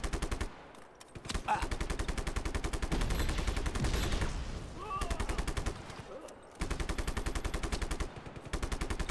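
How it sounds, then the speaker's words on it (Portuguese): Sustained long-range gunfire in the video game Just Cause 3, dense rapid machine-gun bursts and volleys that run almost continuously and loudly, with brief lulls around the middle and near the end. "Só atirar de longe."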